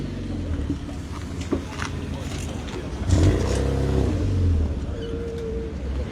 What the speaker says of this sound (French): la voiture de Daniel Collier pour ceux qui connaissent